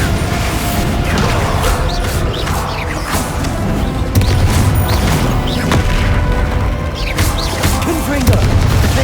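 Explosions from the Confringo spell in the video game Hogwarts Legacy, repeated loud booms and crashes with mechanical clatter, mixed with game sounds and talk.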